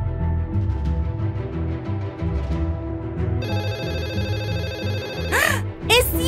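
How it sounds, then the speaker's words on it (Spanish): A telephone ringtone starts partway through, ringing in repeated electronic bursts over busy background music and cartoonish voices. "¡El teléfono está sonando otra vez!"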